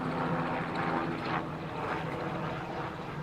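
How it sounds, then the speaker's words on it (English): A helicopter flies over a Disney resort, a steady engine drone with faint rhythmic rotor pulsing, moderately distant and continuous with no voices. "Oh, we got a helicopter out there."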